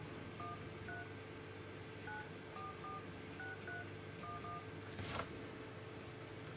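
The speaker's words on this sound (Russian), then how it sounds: "Набираем номер." A phone keypad sounds its dial tones while a number is entered, a series of short beeps at an uneven pace over a steady background hum, ending with a brief louder click.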